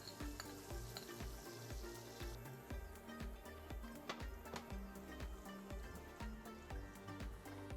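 Tandoori tofu sizzling in vegan butter in a pan, a continuous soft crackling fry with scattered pops and faint stirring taps, quiet and steady throughout.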